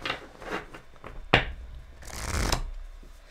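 Oracle cards being shuffled by hand, several close riffling and sliding bursts with a sharp snap partway through and a longer final shuffle, no talking.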